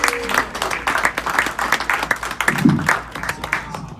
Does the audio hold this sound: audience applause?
yes